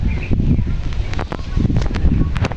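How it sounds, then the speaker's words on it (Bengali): Strong wind buffets the microphone outdoors at a rural family home, a steady low roar with gusting bursts throughout. "বাতাস অনেক।"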